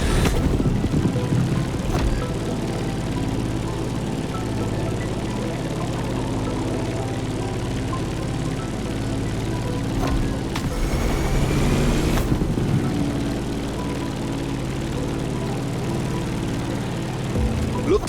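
A propeller aircraft in the racing game The Crew Motorfest drones steadily as it climbs over Hawaii, its engine a constant low hum throughout, with a brief louder whoosh near the middle.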